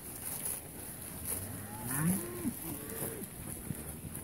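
Dry dairy cows being moved along a farm race let out several drawn-out moos at moderate distance, one call overlapping the next, over a faint outdoor background.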